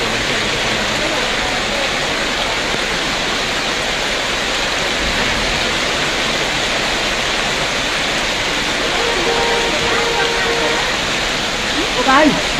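Heavy rain pours and water rushes down a road in Darjeeling, Kurseong during a hail storm, a dense, steady roar close by throughout, with a voice speaking faintly beneath it.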